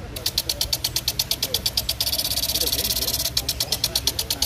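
A Rain Bird 8005 rotor sprinkler, just switched on, ticks in a fast, regular rhythm of sharp repeated clicks, close and loud, with faint voices underneath.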